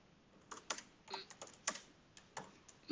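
Quiet, close keystrokes on a computer keyboard as a git clone command is typed, a quick irregular patter of individual clicks with no voices.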